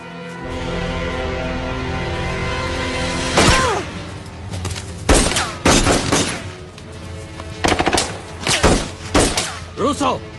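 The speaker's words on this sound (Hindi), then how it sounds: "रूसो, गोली चलाना बंद करो।" Loud gunfire in a Hindi-dubbed Hollywood action movie: sharp shots and bursts crack over a constant rumbling score, the firing growing denser and more rapid toward the end.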